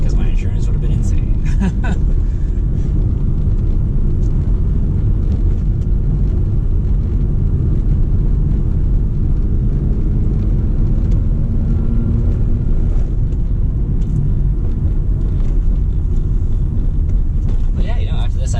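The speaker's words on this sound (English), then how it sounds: "that concludes the drive in the Mazda RX-7" A 1993 Mazda RX-7 Touring hums with a steady low engine drone and road rumble while driving, continuous and fairly loud throughout.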